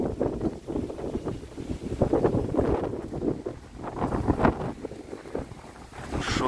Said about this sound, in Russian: Сильный ветер сегодня.